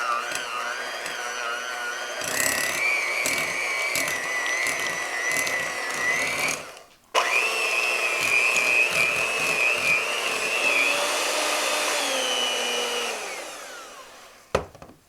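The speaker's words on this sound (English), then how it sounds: "I'm going to beat my cream cheese until it's light and fluffy" An electric hand mixer beats cream cheese until light and fluffy for a cheesecake, a steady whirring drone with a brief pause midway, then running on before cutting off.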